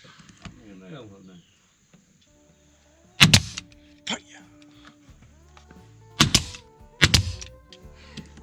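A brad nailer fires nails into a ceiling panel during a Ford Transit AWD van build, giving several sharp, loud thwacks spaced apart with quieter mechanical clicks and handling noise between them.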